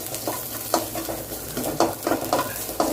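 Crushed unpeeled small garlic cloves frying in oil for homemade rasam powder, a steady close sizzle broken by several sharp stirring scrapes spaced through the few seconds, with no voices.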